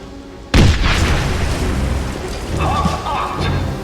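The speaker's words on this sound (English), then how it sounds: "Destroy that locked door. Take cover! It's going to blow!" A demolition charge blows open a locked door at a train station in the Wolfenstein shooter game: one sudden, powerful blast followed by a long rumbling tail of debris and reverberation.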